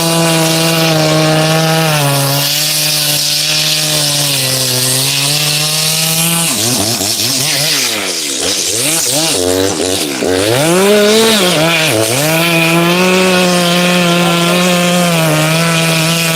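A chainsaw with a sharp 14-inch chain cuts firewood in Oregon, a loud continuous engine drone that bogs and shifts pitch as it bites into the wood, close and steady throughout.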